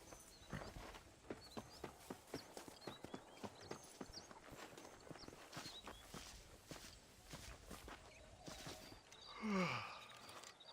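Horse hooves in a Western video game clip-clop steadily at a walking rhythm, close and clear, before a brief neigh or snort near the end.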